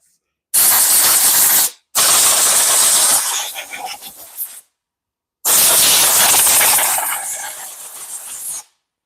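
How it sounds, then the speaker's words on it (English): Compressed air tool blasting dust off a backpack blower that will not run, three loud, close hissing bursts separated by short gaps of silence. "I'm going to take my air tool and blow all the dust off of there"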